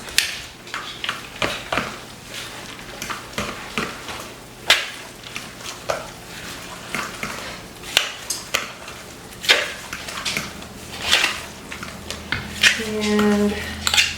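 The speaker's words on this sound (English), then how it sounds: "I'm going to stir that up and see how it looks." A spoon clinks and scrapes against a bowl as mashed potatoes with white cheddar are stirred, giving repeated irregular taps and knocks close by with no talking.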